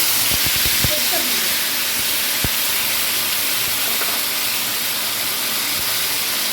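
A steady hissing sizzle of tomato, green chilli and ginger paste frying in oil fills the clip, with a few clinks and knocks of a utensil against the pan early on.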